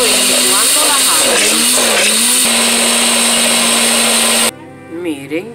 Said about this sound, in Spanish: Ahí estoy licuando la jagua.